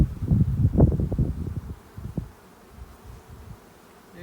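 Honey bees buzz up close in an opened hive during a check one month after a package install, a dense rustling drone that is louder at first and then thins out, with no speech.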